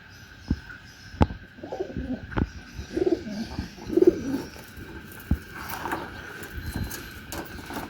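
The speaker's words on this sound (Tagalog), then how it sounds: "Naglalaban ang mga ibon, sila nga nananamasigla." Racing pigeons coo and flutter in scattered bursts, with soft thumps and wing clatter in a scuffle, moderately close over a faint outdoor hum, with no talk.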